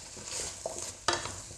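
Finely chopped black beans for a chicken black bean sauce are stirred in a frying pan, a soft sizzle under brief scrapes and clatters, with one sharper stir near the end.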